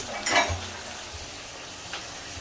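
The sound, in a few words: chicken frying in a pan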